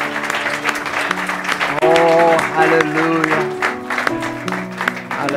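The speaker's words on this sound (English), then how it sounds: "let's just give the Lord a hand clap of praise" A church congregation claps hands in praise during a worship service: steady, dense clapping over sustained organ-like music, with a voice calling out briefly.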